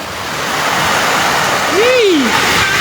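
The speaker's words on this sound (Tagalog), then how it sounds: "Napakalakas ang alon yan." Strong sea waves roar through a heavy rain storm with high winds in Quezon, a steady, loud, broadband wash, with a brief rising-and-falling whine cutting through near the end.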